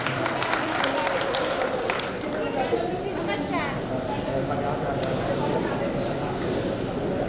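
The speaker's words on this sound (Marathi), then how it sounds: "एकदा नीलमसाठी जोरदार टाळ्या झाल्या पाहिजे." A crowd applauds for co-host Neelam at a dress shop prize event, giving sustained, dense clapping that holds steady throughout, with people talking over it.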